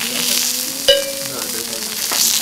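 Hida beef grilling over a tabletop grill, a steady soft sizzle running throughout with a brief sharp pop near the start, close and moderately loud with no talking.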